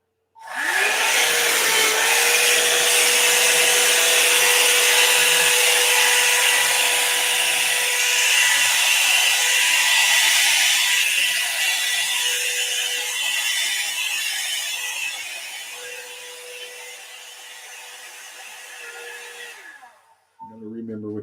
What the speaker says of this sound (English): It's a Revlon hairdryer thing.